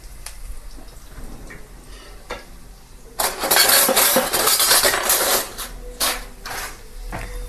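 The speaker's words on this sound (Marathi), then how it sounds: "तर हे थोडंसं लसण असं लाल होईपर्यंत फिरवून घेऊया" Chopped garlic sizzles in a hot pan as it is stirred for an aloo methi dish, with a quiet start before a loud, steady frying hiss swells midway and carries on with brief scraping bursts.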